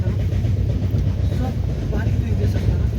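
Passenger train travelling from Ara to Mumbai rumbles steadily from inside the carriage, a continuous low, heavy drone with faint rhythmic rattling, and no talk over it.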